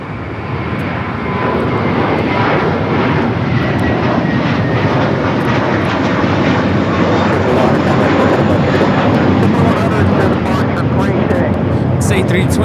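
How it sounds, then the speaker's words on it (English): A JetBlue Airbus A321 jet bound for Fort Lauderdale takes off at LAX with a loud, sustained engine roar that holds strong throughout, while people talk over it. "This JetBlue E321 heading to Fort Lauderdale,"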